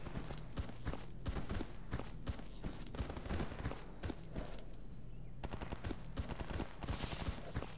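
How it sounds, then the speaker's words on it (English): Constant distant gunfire in the video game STALKER Anomaly, with rapid bursts and scattered single shots crackling on and off throughout, fairly faint and with no talking. "It's a lot of gunfire."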